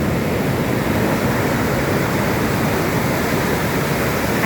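Ocean waves break continuously on a beach in Goa, India, a loud, steady broadband roar of surf with no pauses and no voices.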